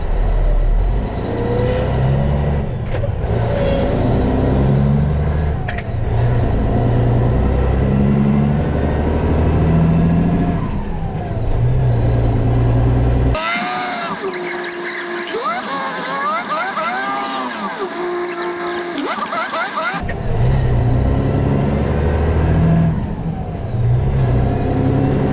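A car cruising on a highway around Cedar Rapids and Marion, Iowa, with steady road and engine noise throughout, broken by a stretch of muffled, different-sounding interior audio midway.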